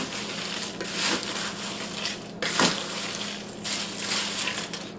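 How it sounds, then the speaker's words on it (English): Oyster crackers coated in seasoning mixture are tossed in a bowl, giving soft, continuous rustling and shuffling with a few sharper crunchy bursts, close and moderately quiet, with no talking. "pour the mixture over the crackers and toss till all the crackers are thoroughly coated"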